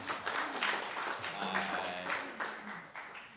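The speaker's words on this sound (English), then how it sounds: "let's give another round of applause for Dale." Moderate applause from a congregation at a worship service rings out close, steady clapping that gradually thins and fades toward the end.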